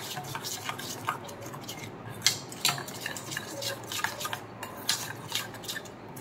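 A spoon clinks and scrapes against a bowl while turmeric, salt and mustard oil are mixed for steamed hilsa fish in mustard sauce, giving quick irregular taps and wet stirring, close and fairly soft, with no talking.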